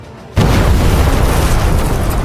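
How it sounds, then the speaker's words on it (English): After a brief quieter lead-in, a massive explosion bursts out as lightning strikes in an arena, then a loud, dense roaring rumble holds steadily to the end. "A cataclysmic explosion thundered across the arena as the lightning struck Ultulrus without mercy."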